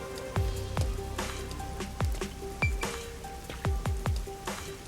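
Steady rain pours in the video game Master Detective Archive: Raincode, a constant hiss with scattered sharp drip and splash hits landing close by, heard alone with no talking.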